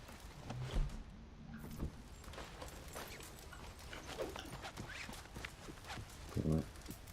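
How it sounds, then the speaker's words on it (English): Horse hooves clip-clop at a walking pace in the video game Trumpstart, a soft, irregular series of hoof knocks at low level under faint game ambience. "It's a nice horse."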